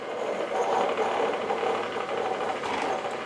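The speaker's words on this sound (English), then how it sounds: "it did go ahead and brew our shot of coffee while we were waiting" A Keurig K Cafe brews a shot of coffee, giving a steady, close mechanical whirring and pumping drone with fine rattling texture that holds even throughout, with no voices.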